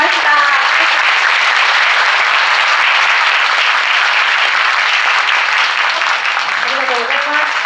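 A crowd applauds for a singer at a cabaret performance, a dense, steady wash of clapping that stays loud and even throughout, with no break.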